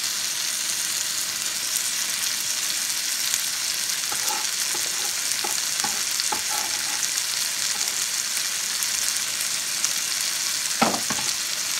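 Onion, celery and garlic fry in a pan with a steady broadband sizzle, with a few soft stirring scrapes and clinks partway through and a louder clatter near the end; no one speaks.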